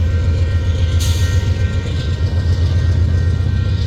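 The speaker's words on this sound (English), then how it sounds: "this westbound manifest, which will be terminating in Bailey Yard" A westbound manifest freight train rolls past at close range in Missouri Valley, Iowa, a loud continuous low rumble of wheels and cars with a hissing burst early on, no voices.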